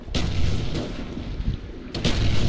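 Python revolvers fire in a first-person shooter game, two heavy booming reports with rumbling tails, loud and close, one near the start and another about two seconds later.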